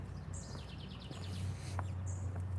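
Small backyard bird sings in repeated bright chirping phrases, fairly clear over a steady low outdoor hum, with no talking.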